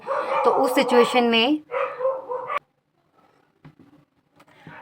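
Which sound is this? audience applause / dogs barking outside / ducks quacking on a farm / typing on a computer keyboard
dogs barking outside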